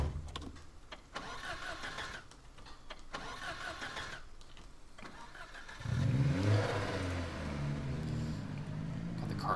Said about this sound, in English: Got the car started on the 3rd try.